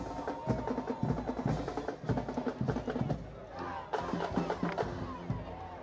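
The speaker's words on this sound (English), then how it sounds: "Cheer one more time for our Loris Lions." Loris Lions fans at a high school football playoff game cheering and yelling in a loud crowd, rising in repeated bursts of shouts with voices mixed through the roar.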